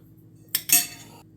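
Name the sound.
spoon scooping mashed avocado into a big bowl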